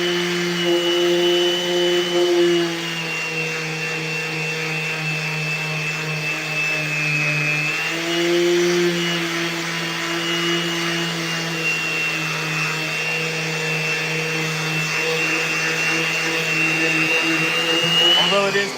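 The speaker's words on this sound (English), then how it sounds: "it is pretty satisfying to sand it down" A power sander hums steadily across the bottom of a mid twin skateboard deck, sanding down dark wood veneer; the close, continuous whine dips and rises slightly in pitch throughout.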